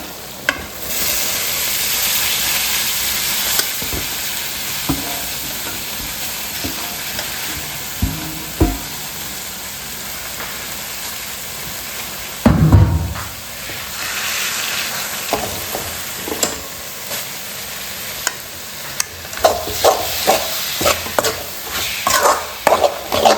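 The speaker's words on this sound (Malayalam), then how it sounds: "നന്നായിട്ടൊന്ന് ഇളക്കി യോജിപ്പിച്ച്" Chopped mango being stirred and mixed in a little oil in a cooking pan, a long steady sizzle broken by scraping strokes, clanks of the spoon against the pan and a loud knock midway.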